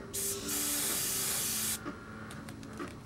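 An airbrush sprays ink onto sandpaper to clear its tip, a close, loud hiss lasting over a second and a half, followed by softer clicks and faint hissing.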